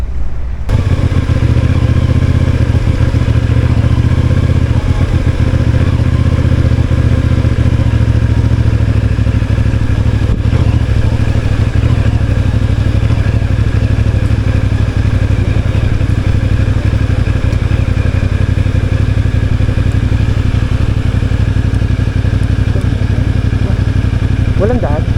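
CF Moto 450NK motorcycle running continuously for a long stretch, a loud, steady engine drone with road rumble and wind.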